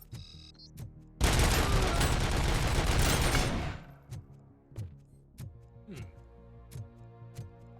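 A sustained burst of rapid automatic gunfire in Robocop: Rogue City, loud and dense for a few seconds, then fading into a steady series of light ticking clicks.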